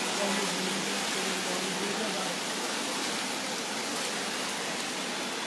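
Heavy rain pours over Lal Chowk in Srinagar in the Kashmir valley, a dense, steady hiss that stays loud and unbroken throughout.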